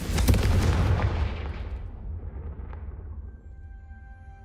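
A Confringo fire spell explodes in Hogwarts Legacy with a loud, close boom that rolls out into a long fading rumble, followed by quiet magical tones as the blast dies away.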